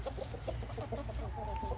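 Chickens cluck softly nearby in a quiet run of short, repeated calls beside a coop and compost pile, with faint background noise and no talking.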